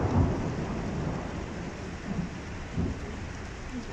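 Heavy rain with hail pounding down during a fierce hailstorm in Puno, a dense continuous roar with a few heavier bursts, steady and fairly loud with no voices.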